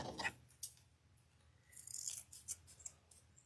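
Scissors snip a dovetail notch into the end of a ribbon for a floral wreath: a few quiet, crisp cutting clicks and a soft rustle of ribbon, close and otherwise hushed.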